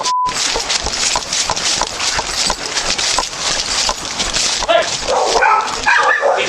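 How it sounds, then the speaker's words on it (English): Several dogs bark and yip in a noisy, chaotic scene, with a brief tone at the start and commotion throughout. "they rush toward the sounds of barking coming from the backyard"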